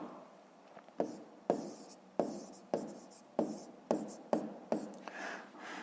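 A pen writes on paper during a maths exercise, giving a regular series of scratchy strokes, each starting with a sharp tap and trailing off, close and quiet.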